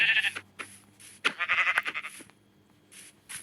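Sheep in the video game Minecraft give a string of bleats, several close, clear wavering cries separated by short pauses with no talking.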